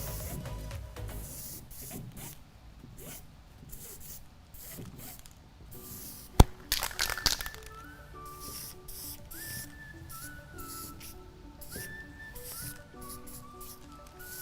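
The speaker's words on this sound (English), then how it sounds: "I love using this thin black spray tip" Aerosol spray paint hisses through a thin black spray tip onto a painted surface, with steady close hissing bursts and a few sharp clicks and knocks midway.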